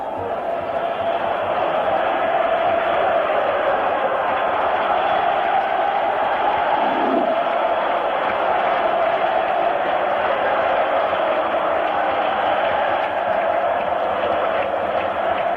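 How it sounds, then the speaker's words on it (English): Roaring home crowd of AS Roma supporters filling a football stadium during a 1983-84 European Cup semi-final against Dundee United, a loud, steady wall of cheering that never drops away. "The noises of triumph floating over the Roman hills."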